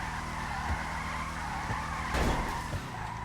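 A Gauntlet Interceptor drifting in GTA gives a steady, loud tire squeal over engine noise, swelling near the end of the slide with no talk.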